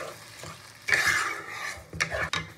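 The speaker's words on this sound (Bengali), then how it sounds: "এবার আমি প্রথমে দুধটা দেবো।" Milk poured into rice frying in a pot for basanti polao, a sudden loud hiss and sizzle that swells after a soft stirring scrape and flares again briefly near the end, close up with no voices.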